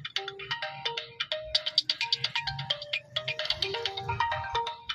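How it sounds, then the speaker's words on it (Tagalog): A cellphone rings with an incoming call, playing a bright, fast, melodic electronic ringtone of quick repeated notes that runs continuously and fairly loud, with no talking over it. "May tawag sa cellphone niya."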